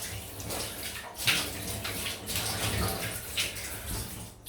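Water runs from a large bathroom tap while a razor and shaving soap lather are rinsed off, a steady faint rush with brief louder splashes as the blade is passed under the stream.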